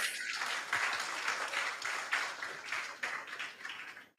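An audience at a junior high school quiz contest breaks into applause, a dense steady patter of many hands clapping that fades out at the end.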